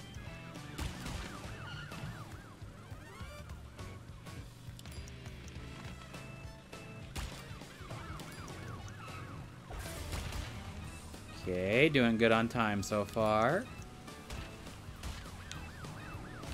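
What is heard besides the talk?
police car siren in Crash Bandicoot N. Sane Trilogy video game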